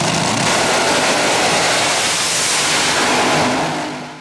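A front-engine AA/fuel dragster at the NHRA Heritage Series March Meet revs hard, a loud, dense, sustained roar filling the whole span, easing slightly near the end with no talk over it.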